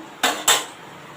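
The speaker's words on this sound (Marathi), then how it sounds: "झाकण ठेवते" A cooking pot of spicy masala for prawn biryani is covered with its lid, giving two quick, close metallic clanks in succession before quiet returns.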